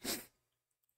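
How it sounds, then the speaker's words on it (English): A single quick human sneeze, sharp and breathy, bursts out at the start and fades within a fraction of a second, followed by near silence and tiny clicks. "I'm just gonna sneeze a bunch."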